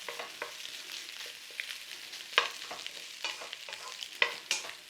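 Old, clumpy rice being stir-fried for egg fried rice, with a utensil scraping and tapping the pan in an irregular rhythm over a soft continuous sizzle, close and moderately quiet.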